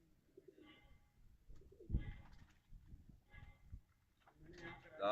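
Pigeons coo softly in bursts while people talk nearby, with a louder rustle or flutter near the end.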